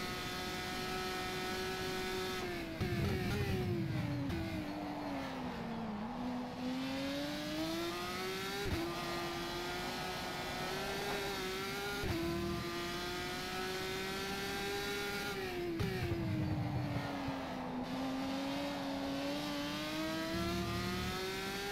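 GP3 race car engine in rFactor 2 sim racing around the Dubai circuit, a loud whining engine rising and falling in pitch through repeated gear changes, heard alone for about twenty seconds.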